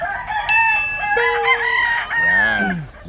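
A rooster crows loudly nearby, one long strained call that rises and falls, with a few other bird sounds mixed in.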